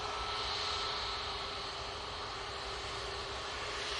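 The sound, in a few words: Ryanair jet plane departing to Copenhagen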